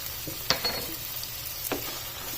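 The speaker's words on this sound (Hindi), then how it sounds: "मिक्स कर लिया है काली मिर्च को।" A spoon scraping and stirring through mutton jalfrezi as crushed black pepper is mixed in, a few soft clicks and scrapes over a steady low sizzle from the pot simmering on a slow flame.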